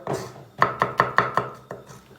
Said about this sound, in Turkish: Elinizde hangi biber varsa ondan doğrayabilirsiniz.